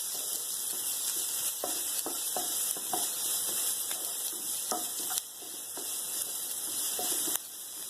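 Finely chopped onion frying in ghee in a pan, a steady close sizzle broken by frequent scraping and stirring strokes.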